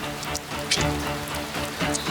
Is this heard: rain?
yes